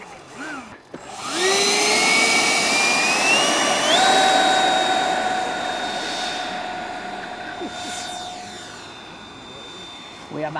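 An RC model F-16 jet rolls for takeoff at Dishforth airfield, its turbine whine rising sharply in pitch and staying loud and steady, with faint voices nearby.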